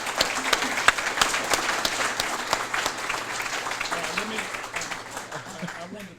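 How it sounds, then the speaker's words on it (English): Audience applause at a sports summit session, dense steady clapping from a room full of people that fades slightly toward the end, with a faint voice underneath. "round of applause"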